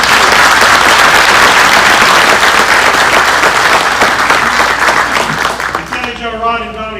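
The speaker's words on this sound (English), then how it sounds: "Please give a round of applause for these table hosts." Loud, sustained applause from a dinner audience at a Scout award banquet, a steady wash of clapping that tapers off near the end as a voice begins to speak.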